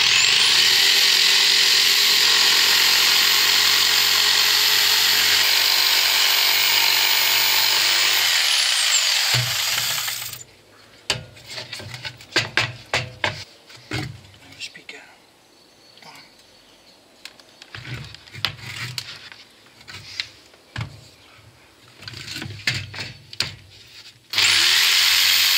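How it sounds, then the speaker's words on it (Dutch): A jigsaw cuts wood for a workbench, a loud continuous buzzing whine for about ten seconds that then stops, followed by scattered knocks and handling clatter and a brief return of the saw at the end. "zeggen ze altijd dat zagen met decoupeerzaag niet zo nauwkeurig is"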